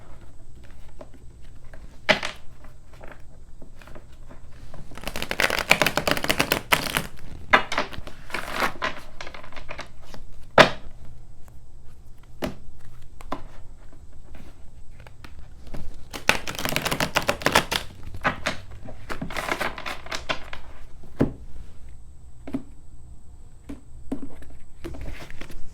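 Oracle cards from an Angelic Revelation deck are shuffled in soft, papery riffling bursts, with quiet taps and rustles in between, close and fairly faint, no talking.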